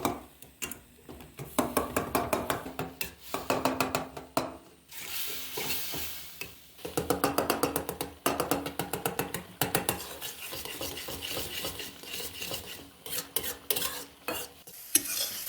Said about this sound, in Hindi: अब हम टमाटरों को मैश कर लेंगे।